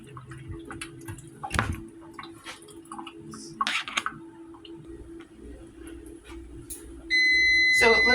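A kitchen timer goes off while chicken soup cooks, a steady electronic beep that starts near the end and holds loud after quieter kitchen clatter and a few knocks.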